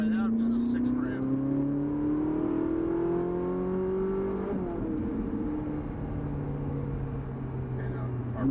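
A Ferrari 458 Italia accelerating out of a corner in third gear on a racetrack, the engine note climbing steadily in pitch as it revs toward 6,000 rpm, loud and close from inside the car, with a person talking over it.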